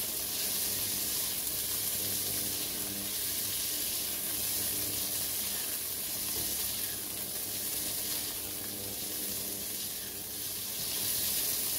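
Shrimp fry in a pan with a loud, constant sizzle, stirred now and then with faint scraping, heard close up with no talking.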